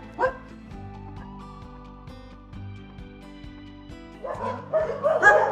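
Dogs at a rescue shelter in Madagascar give a few short yips and barks, faint at first, then a louder cluster of barking and whining toward the end over a steady low hum.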